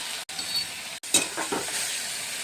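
Spice paste sizzles in hot oil in a pan with onions and nigella seeds for a hilsa fish curry: a steady close frying hiss broken by a few scraping stirs.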